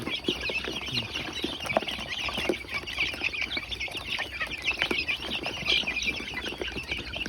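A flock of nearly two hundred backyard chickens clucking and scratching at feeding time, a busy and continuous chorus close by with scattered sharp pecks.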